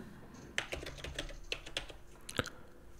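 Quiet keystrokes on a computer keyboard as a password is entered, a few irregular taps over a soft background hum, close and faint, with no one speaking.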